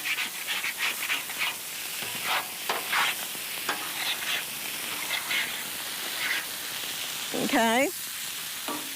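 Mushrooms sizzle and hiss in a hot pan as a spatula scrapes and stirs them in repeated strokes, close and steady. Near the end a brief voice speaks.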